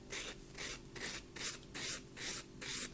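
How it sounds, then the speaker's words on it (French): A small nail buffer rubs back and forth over a dried silk nail wrap, seven quiet, rhythmic scratchy strokes about half a second apart, close and soft with no talking. "maintenant je vais repasser ma petite ponce dessus pour lisser le tout"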